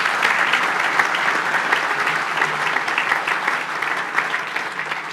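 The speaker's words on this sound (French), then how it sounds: "On peut applaudir la communauté de communes" Roomful of people at a New Year's wishes ceremony clapping for the local community of communes, giving steady, dense applause throughout with a few voices underneath.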